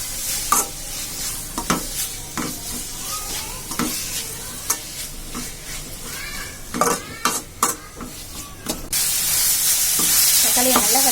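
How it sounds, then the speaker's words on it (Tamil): Tomatoes sautéing in a pan for a Tamil-style mutton liver fry: a steady sizzle with repeated sharp scrapes and clinks of a spoon stirring against the pan, close by, with the frying growing louder toward the end. "தக்காளியை நல்லா வதக்கிக்கோங்க."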